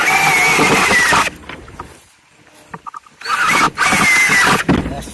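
A power drill drives a long screw through two stacked boards in two loud, close bursts with a rising whine, separated by a quiet pause with small clicks and handling noises.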